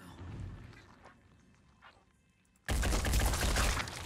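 Gunfire in the tactical game Phoenix Point: quiet scattered shots and movement at first, then an abrupt, loud sustained burst of fire that continues to the end.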